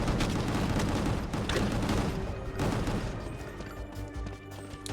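Sustained heavy gunfire blasts from the Gungrave G.O.R.E ultimate barrage attack, a dense loud continuous volley of shots with booming low impacts that thins slightly toward the end.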